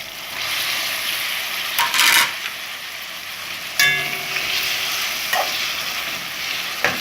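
Saltfish sautés in a pan with a steady, fairly loud sizzle, broken by a few brief scraping and clinking bursts from stirring.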